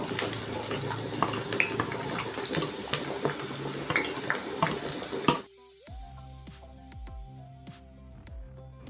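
Chopped onions sizzle in hot vegetable oil in a pot, a dense steady hiss for about five seconds that cuts off abruptly to near quiet with faint tones.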